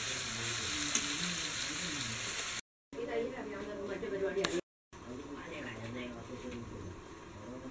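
Ginger garlic paste fries in a pan for Kerala-style pepper chicken roast, a loud close continuous sizzle with a few stirring sounds, running under talking and broken by two brief silent gaps.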